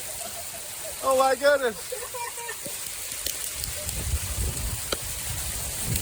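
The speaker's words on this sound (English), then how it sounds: "We got hail." Hail falling outdoors, a steady pattering wash with scattered sharper hits, while a voice briefly exclaims partway through.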